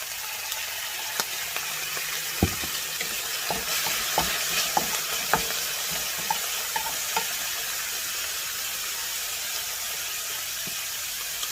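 Soy sauce sizzles in a hot pan while Chinese fried rice is stir-fried. A loud, steady hiss runs throughout, broken by repeated sharp scrapes and clicks of the spatula. No one talks.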